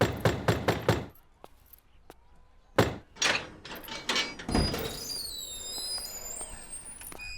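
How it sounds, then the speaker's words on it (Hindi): Sharp, loud bangs strike a door in quick bursts. A cluster comes at the start and more follow after a pause, with scraping and clattering afterward. "दरवाजा काहे पीट रहे हो?"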